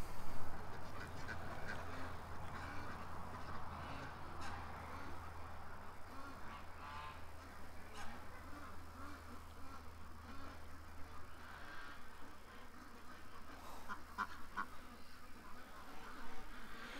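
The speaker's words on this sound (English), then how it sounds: "They're two little chocolate ducks." Two chocolate-coloured ducks quack softly at close range, faint intermittent calls over a low steady hum and background rustle, with brief bits of talk.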